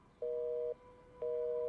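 Old-style telephone giving a busy tone after a call is cut off, two clean steady beeps about half a second long with a pause between, heard close and alone.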